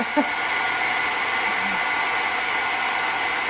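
A heat tool melting embossing powder on a papercraft project, a loud, steady close-up blowing whoosh that runs unbroken throughout.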